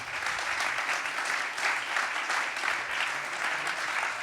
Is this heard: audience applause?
yes